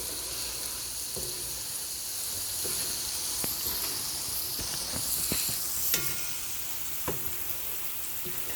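Soy chunks frying in a pot for a stew are stirred, a steady close sizzle and hiss running throughout with a few soft spoon knocks and scrapes against the pot.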